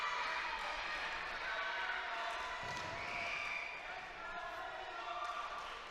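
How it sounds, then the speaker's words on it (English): Wrestling crowd roaring steadily at an SFCW independent event as Will Kaution climbs back to his feet against Brian Kane, a dense continuous wall of cheering and noise throughout. "Listen to this crowd behind Will Kaution."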